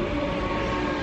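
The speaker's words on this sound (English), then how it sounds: "Okay, we're getting on the train now." A Merseyrail train near Bootle Oriel Road rumbling along with a steady metallic drone and low rolling noise, close by and continuous.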